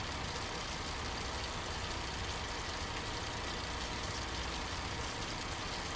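Modded Ford truck engine sound in Euro Truck Simulator 2, a steady low idling rumble that holds evenly throughout with no talk.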